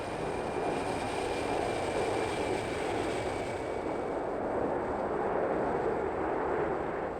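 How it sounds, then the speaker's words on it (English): A Concorde airliner takes off in the video game Transport Fever, a continuous broad jet roar with a faint high whine, steady and moderately loud throughout. "sounds like our Concorde is taking off"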